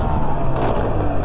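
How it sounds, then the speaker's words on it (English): A Beta 300 RR two-stroke enduro motorcycle rides along a trail, its engine a loud, close, continuous buzzing drone for a brief stretch. "I'm gonna take this Beta 300 RR 2-stroke out."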